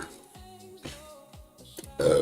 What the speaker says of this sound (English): I'm drinking a Coke, so that is what I was burping